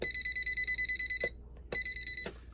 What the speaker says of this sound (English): You can see that it's beeping right here where there's current.